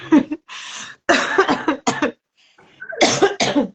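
A run of harsh, close coughs in bursts from a woman with a week-long cough and sore throat, several in a row with short pauses, followed by a couple more hacking coughs after a brief quiet gap.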